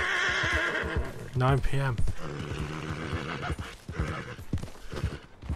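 A horse in the video game Red Dead Redemption II neighs loudly and close, with hoofbeats, under someone talking, game music and ambient noise.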